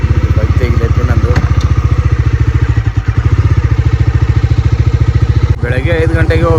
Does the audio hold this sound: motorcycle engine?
yes